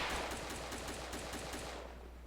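Machine gun firing in the video game BreakingPoint, a distant rapid rattling burst of repeated shots over steady background noise, with no talk.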